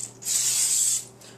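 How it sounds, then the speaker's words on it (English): Canola oil sprays from a can into the inside of a cake pan in one steady hiss lasting about a second, close and alone. "we're going to take our canola oil and we're going to spray the inside of the pan"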